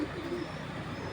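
A moulting Archangel Mosaldom pigeon gives a brief, low coo that sounds soft and near, alone over a faint hiss of background noise.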